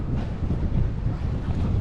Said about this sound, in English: Down here at the jetty, it's bloody windy